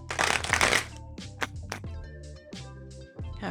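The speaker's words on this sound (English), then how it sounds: "Give this one last little shuffle." Tarot cards riffled and shuffled by hand, a quick papery burst followed by several softer card slaps and slides, close and quiet.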